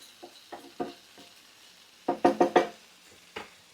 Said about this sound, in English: Once my vegetables are almost done, I'm going to push those to one side